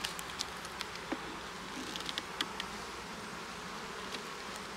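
Honeybees hum in a steady, dense drone close by at an eight-frame hive, with a few brief louder buzzes of individual insects passing near.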